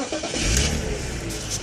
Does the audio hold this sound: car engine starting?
yes